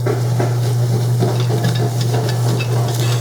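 Flour cooking in melted butter for a blonde roux in a pan, a steady soft sizzle with faint stirring scrapes throughout, close and continuous with no talk, over a constant low hum.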